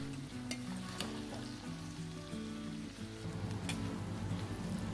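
Cauliflower pieces fry with onion and green chillies in a pan for a street-stall style cauliflower fry roast. A continuous soft sizzle comes with a few stirring clicks, and a low tonal hum runs underneath.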